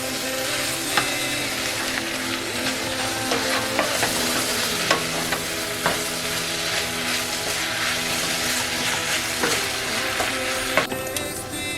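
Onion and sliced leek caramelizing in a pan give a steady close sizzle, broken by repeated scraping and clacking strokes of a utensil as they are stirred, with no speech.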